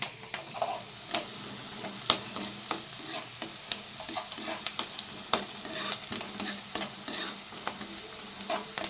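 Small chicken pieces fry in a pan, a soft continuous sizzle broken by frequent scraping stirs and clicking taps of a spatula, fairly quiet and without talk.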